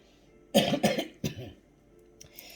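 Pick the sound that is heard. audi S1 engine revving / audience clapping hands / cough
cough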